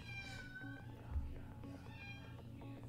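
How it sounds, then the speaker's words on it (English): A pet cat yowls and screams at a closed bathroom door, its meows faint and drawn out behind steady music and game sound, with no talking over it. "Do you hear my cat screaming?"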